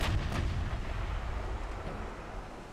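Battleship guns fire in a naval battle game, a deep rumbling boom that rolls on and slowly fades, loud and continuous with no talking.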